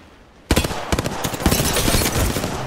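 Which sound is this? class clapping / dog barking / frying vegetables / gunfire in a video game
gunfire in a video game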